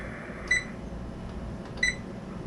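A kitchen timer gives two short, clear electronic beeps about a second apart while being set for cooking rice on a low stove setting, heard close over a faint background hum with no talk.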